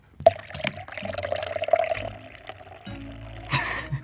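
Water is poured into a drink, giving a close splashing, gurgling stream with uneven surges that ebbs and then splashes again near the end.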